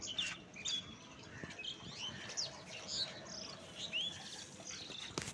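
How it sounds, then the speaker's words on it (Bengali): A bird chirps and tweets in short repeated bursts, quiet and fairly close, with faint rustling and possible wing flaps in between and no talking. "দেখো দুষ্ট পাখি, এই দুষ্ট পাখি।"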